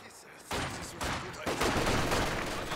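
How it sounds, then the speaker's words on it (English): Rapid machine gun bursts and overlapping gunfire in a WWII strategy video game, dense and continuous after a brief quiet start, with a faint commentator's voice underneath. "Nice MG position there for Nico, though."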